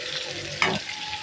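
Chopped onions hitting hot oil in a pan and sizzling steadily, with a brief louder burst of frying as they go in, close and alone.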